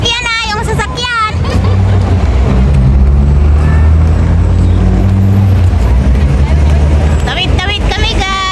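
Street traffic in a busy Chinatown, with a loud, steady rumble of vehicles passing close by throughout and a murmur of people talking around.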